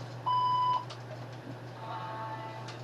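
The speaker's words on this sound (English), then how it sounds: "I didn't realize my alarm was still programmed to go off" An alarm beeps in a steady electronic tone for about half a second, then a fainter second tone follows over a constant low electrical hum in a quiet room.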